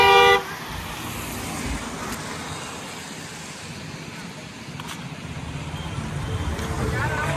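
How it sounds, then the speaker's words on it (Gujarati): Cars travel a rainy hill road at Mount Abu. A short horn toot sounds at the very start, then a steady, moderately loud rush of passing traffic builds gradually, with faint voices in the background. "બધી ગાડીઓ આવે છે."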